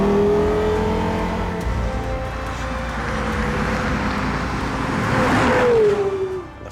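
A Porsche Carrera GT's engine revs loud and close, its steady tone rising and falling with a sweeping pitch bend near the end before cutting off.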